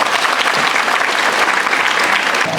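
Steady, loud applause from a school audience at Rani Meyyammai Higher Secondary School, many hands clapping together in a dense, even wash that sustains throughout.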